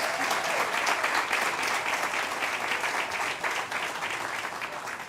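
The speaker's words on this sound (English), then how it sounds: "So let's give them a round of applause." A civic audience at a State of the City event applauds police department captains with sustained, dense clapping that stays loud and even throughout, without talk.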